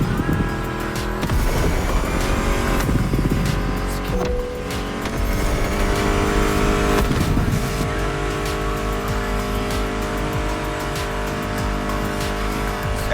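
Car engines in The Crew Motorfest, dense and loud, revving and roaring with tyre noise, layered under a continuous music track throughout.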